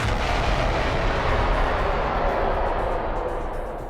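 A big sci-fi explosion effect in a space audio drama, a loud sustained roar and rumble of blaster fire and searing light that fills the whole span, then slowly fades.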